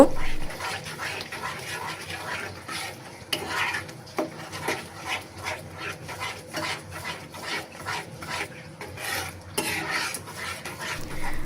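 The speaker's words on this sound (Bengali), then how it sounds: "এখন হলুদ মরিচের গুঁড়া হচ্ছে মশলার সাথে আবারও কয়েক সেকেন্ড একটু কষিয়ে নিব" Turmeric and chili powder are stir-fried with spices, a spoon scraping and rubbing rhythmically against the pan in repeated strokes over a light sizzle.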